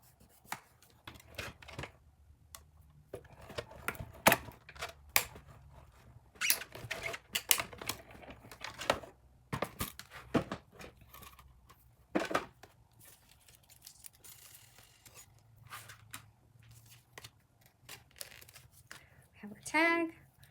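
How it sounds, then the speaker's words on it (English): Post-it note tape being pulled off and pressed down onto a paper snowman craft, with quick tearing and crinkling bursts scattered over about twenty seconds, close and fairly quiet. "grab some Post-it note tape right here and tape him down just in case he moves"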